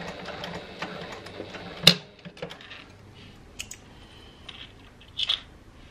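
A Janome HD9 sewing machine topstitches a zip with a faint, steady mechanical patter, broken by a couple of sharp clicks. No one speaks.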